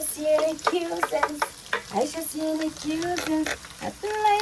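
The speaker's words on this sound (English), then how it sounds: "So I'm gonna saute this for till it goes translucent," Sautéing in a pan while cooking Jamaican-style rice and peas, with busy stirring, a frying sizzle and scraping strokes, close and fairly loud, alongside tonal sounds in the background.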